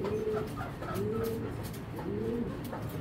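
A racer pigeon of a foreign bloodline gives three drawn-out, rising-and-falling coos in close succession, close and clear over a steady low background murmur.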